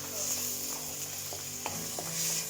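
Onions fry in a pan with a soft, steady sizzle and a few light clicks and scrapes of stirring, quiet and close.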